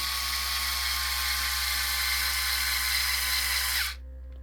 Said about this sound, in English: we'll come back and run them down with the driver